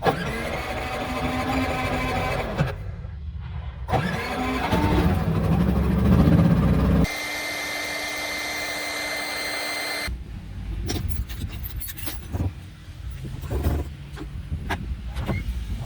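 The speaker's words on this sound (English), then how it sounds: "let's spark up the generator and see if that'll make a difference" A portable generator starts up beside a converted school bus in near-freezing weather, then settles into a steady, loud running drone with a mechanical whine, followed by a few clunks and rattles.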